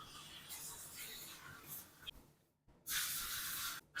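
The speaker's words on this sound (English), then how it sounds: "Add some oil to this one and install it." Oil sprayed onto the fixing drive gear of a Konica copier, heard as two broadband hiss bursts, one soft and longer, then after a brief pause a louder, steady spray of about a second that cuts off abruptly.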